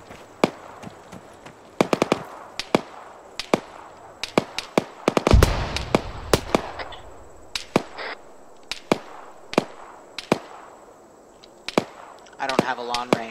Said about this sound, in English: there are mortars being fired right now